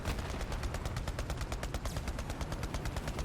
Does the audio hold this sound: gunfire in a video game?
yes